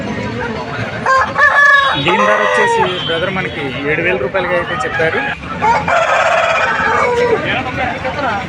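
Roosters crow repeatedly at a busy rooster market in Narsipatnam, with clucking fowl and bleating nearby while someone talks over the din.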